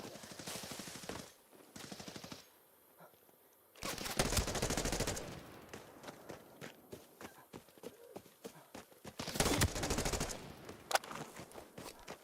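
Rapid bursts of AK rifle fire in a first-person shooter video game, sharp repeated shots in clusters between quieter footstep-like game sounds.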